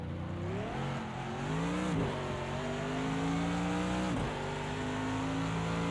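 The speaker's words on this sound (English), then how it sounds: "You're spinning your rear tyres coming out of Coppice." A Mercedes race car in a wet-weather racing video game, its rear tyres spinning as the engine revs climb and dip in sweeping whines, loud and continuous with no talk over it.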